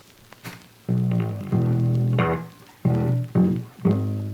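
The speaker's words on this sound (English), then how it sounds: "And then we bring in this bass line that I laid down" Electric bass line with a crunchy, distorted tone from a song production, several sustained low notes with short gaps between them, played close and alone.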